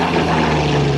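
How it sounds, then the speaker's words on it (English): A Yakovlev Yak-9 propeller fighter flying by at an air show, its piston engine a loud steady droning hum with a strong low tone, heard on its own without talk. "Sean Carroll going by"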